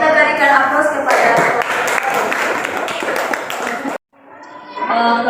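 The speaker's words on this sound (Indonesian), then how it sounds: "kita berikan aplaus kepada" A classroom audience applauds a presenting student group, dense clapping that runs steadily for about four seconds, cuts off briefly, then starts again.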